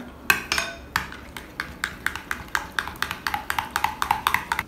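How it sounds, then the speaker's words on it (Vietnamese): Spoon or whisk clinking against a bowl while stirring a homemade hair mask with coconut oil, about two dozen quick sharp taps in a steady rhythm, close and clear. "bây giờ chúng ta trộn đều hỗn hợp"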